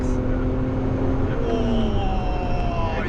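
Volkswagen Corrado, a rare 1980s car, revving in third gear from inside the cabin, a steady loud engine drone that climbs in pitch partway through and holds high, continuous throughout.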